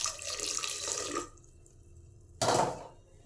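Water splashes from a tap or pour onto dal in a vessel for washing, a steady rush that stops briefly and then starts again, close and fairly loud, with no talking.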